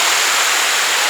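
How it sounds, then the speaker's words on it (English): A big waterfall roars as a dense, steady wash of rushing water, loud and close with no pauses. "Here's the big waterfall."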